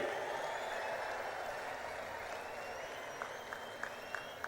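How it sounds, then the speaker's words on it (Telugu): A large crowd at a political rally in Kurnool applauds to welcome Prime Minister Narendra Modi. The clapping is a dense, steady wash that sounds fairly distant, with a few sharper claps standing out near the end. "నరేంద్ర మోడీ గారికి గట్టిగా చప్పట్లు కొట్టి స్వాగతం పలకండి"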